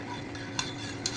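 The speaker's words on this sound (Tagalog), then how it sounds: "Haluin ang haluin. Hanggang matuyo." A spoon stirs gulaman mixture in a pot, a soft continuous swishing with two brief metallic taps against the side, close and quiet.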